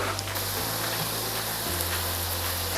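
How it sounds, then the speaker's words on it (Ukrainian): Buckwheat cutlets fry in a pan, giving a steady, even sizzle that stays close and constant throughout, with a low hum underneath and no talking. "Поки з першої сторони котлети обсмажуються"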